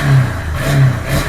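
A 2001 Yamaha Bear Tracker 250cc ATV engine revs in short bursts, the pitch climbing and dropping twice in quick succession, loud and close.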